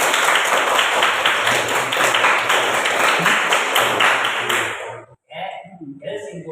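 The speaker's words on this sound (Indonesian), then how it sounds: "Tepuk tangan buat kalian semua." A classroom group claps together in dense, sustained applause for about five seconds, then it stops abruptly and a voice begins speaking.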